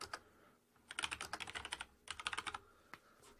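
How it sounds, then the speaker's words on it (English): Typing on a computer keyboard while entering text, heard as two quick bursts of rapid, crisp key clicks with a couple of isolated taps after, close and clear with no talking. "you can just type in what text you want"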